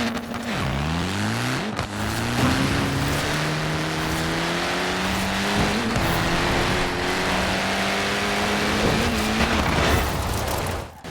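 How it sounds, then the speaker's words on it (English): A 1966 Hillman Imp's engine in Forza Horizon 4 revs hard and climbs through the gears, pitch rising and dropping at each shift, loud and continuous with no talk. "this car's absolutely wicked"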